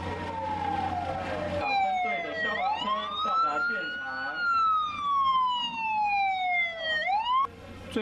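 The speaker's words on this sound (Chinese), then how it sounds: "现在进场的就是苏澳消防分队的救护车及消防车" Sirens from a fire brigade ambulance and fire engine wail at a harbour rescue drill in Su'ao, their overlapping tones sweeping up and down loudly and continuously over outdoor background noise.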